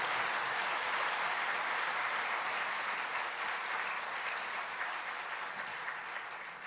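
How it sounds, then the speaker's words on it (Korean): Steady applause from a church congregation at a pastor's installation service, sustained and evenly dense across the whole stretch and fading slightly toward the end. "박수로 서약하도록 하겠습니다"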